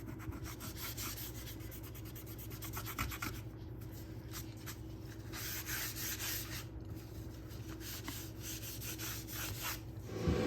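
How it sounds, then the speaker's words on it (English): A baby wipe scrubs burn marks off laser-engraved MDF wood in a steady, soft, continuous rubbing that stays faint and close throughout, with no voices. "we're just gonna take a baby wipe. Kind of hard to do this with one hand, and just scrub it off"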